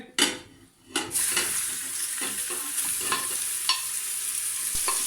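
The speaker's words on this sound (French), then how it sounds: "vous mettez de l'huile dans une cocotte et on va venir cuire donc les morceaux de viande" Small cubes of veal, about 500 grams, hit hot oil in a cocotte with a sudden burst of sizzling, then settle into a steady close fry with occasional stirring clicks.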